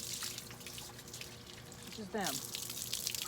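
Water from a hose splashes into a container garden of cantaloupe plants, a steady faint trickling that grows louder and fuller partway through, with a voice speaking briefly over it.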